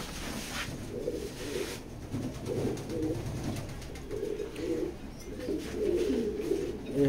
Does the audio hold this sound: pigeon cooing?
yes